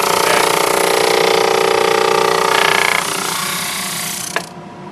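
A drum sander sanding wood pieces for a segmented bowl: a loud, steady machine roar with a grinding, abrasive hiss, shifting slightly in tone partway through before winding down, with a small knock near the end.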